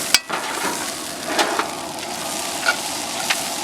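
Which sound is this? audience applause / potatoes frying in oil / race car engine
potatoes frying in oil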